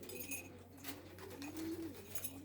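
Racing pigeons coo softly in a loft, low murmuring calls repeating over a steady background hum, fairly faint and without talk.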